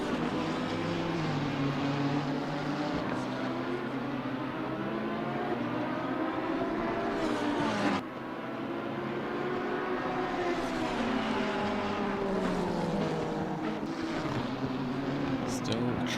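Race cars in a sim racing video game at the Zolder circuit, engines droning and rising and falling in pitch as they pass through a chicane, a continuous loud whine with overlapping cars.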